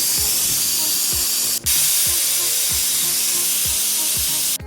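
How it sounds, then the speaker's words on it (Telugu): A pressure cooker boiling spinach dal (palak pappu) hisses loudly and continuously with steam, cut by a brief pause, while a regular low rattling pulse ticks underneath. "ప్రెషర్ కుక్కర్పై మూత పెట్టేసి టూ టు త్రీ విసిల్స్ వచ్చేంత వరకు బాయిల్డ్ అవనివ్వాలి"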